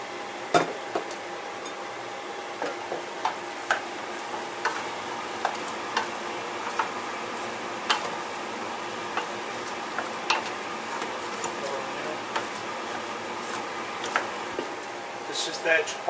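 A spoon stirs chipotle chili powder into oxtail stew meat in a pot, with soft scraping and light sizzling broken by regular sharp clicks and taps, while a person talks throughout.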